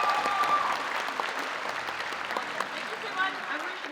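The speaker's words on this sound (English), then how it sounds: "Everyone, one more cheer." A convention crowd at a PAX Aus cosplay championship cheers and applauds a cosplayer, sustained clapping and whoops filling the hall while a host's amplified voice carries over the noise.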